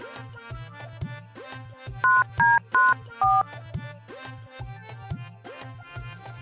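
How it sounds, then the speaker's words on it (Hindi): A phone rings out during a call to a bank as a rhythmic melodic ringtone with a repeating beat, broken by a few bright beeping tones in the middle, near and moderately loud. "बैंक फोन करके पूछ लेता हूँ।"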